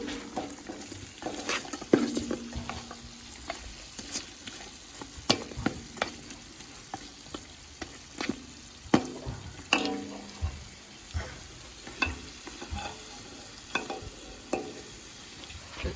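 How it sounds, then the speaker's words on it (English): A spoon stirs beef curry frying in a pot, with repeated scraping clicks and knocks over a steady sizzle, a short pour of water partway through. "use your spoon and just give it a bit of a mix"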